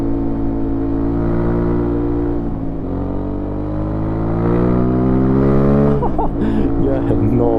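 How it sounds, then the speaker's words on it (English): A 2025 Aprilia Tuareg 660 motorcycle engine pulls steadily uphill. Its close, loud, even drone holds for several seconds, then rises in pitch as the throttle opens near the end. "As I said, the engine is so torquey, so punchy."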